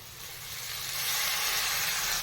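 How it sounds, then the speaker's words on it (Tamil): Chopped banana flower sautés in hot oil with turmeric, giving a steady, close sizzling hiss that swells slightly and holds without a break. "வாழைப்பூ எண்ணெயிலே நல்லா வதங்கிடுச்சு."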